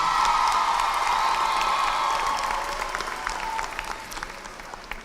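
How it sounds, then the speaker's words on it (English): Loud applause from a large crowd at a college commencement ceremony, a dense wash of clapping that slowly fades toward the end. "So give them a round of applause."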